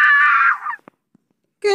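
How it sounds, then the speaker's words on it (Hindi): A female character in the Indian Bike Driving 3D video game lets out a loud, close scream that trails off into a wail, followed by a brief pause and a short burst of sound. "कैसे चिल्लाती है यार"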